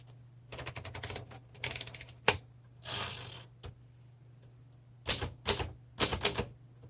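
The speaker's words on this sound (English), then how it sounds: "let's do our typing demo" A 1953 Underwood Deluxe typewriter clacks through bursts of rapid keystrokes separated by pauses, with a ratcheting carriage sound in the middle and louder, crisper strikes near the end, all over a low steady hum.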